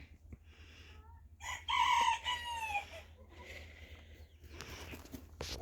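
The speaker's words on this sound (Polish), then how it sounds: "No więc tak się prezentuje kogucik." A silkie rooster crows once nearby, a loud drawn-out call, followed by softer clucking and faint rustling in a backyard coop.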